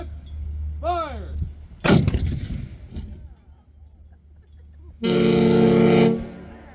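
A single loud cannon shot booms sharply and rolls away, followed later by a long, deep ship horn blast; a rising whistle comes before the shot and a voice speaks briefly.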